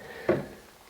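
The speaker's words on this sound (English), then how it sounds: "we have a drawer" A hotel room drawer at a Radisson Blu near Manchester Airport slides or bumps shut with a single short, soft wooden knock, close by and alone in a quiet room.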